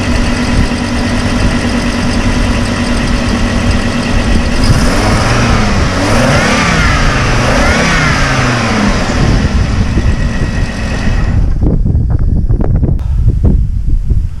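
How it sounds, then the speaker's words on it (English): A 2007 Hummer H3 engine runs steadily and is revved up and down, its tone rising and falling loudly, before the throttle drops back near the end; no talking. "Alright, give it some gas. See if it's a squeal."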